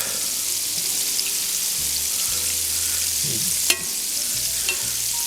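Continuous sizzling and crackling of bass fish pieces shallow-frying in oil, close and steady, with an occasional clink of a utensil and low background hum.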